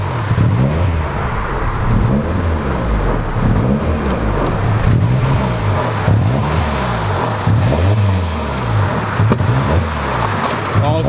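A car engine idles and revs unevenly, misfiring, a loud, close, lumpy rumble with a stumbling, irregular pulse rising and falling throughout.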